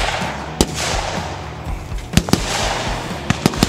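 Gunfire at a 3-gun competition, with sharp 12 gauge shotgun blasts and other reports popping irregularly over a continuous outdoor rumble, several shots in quick succession.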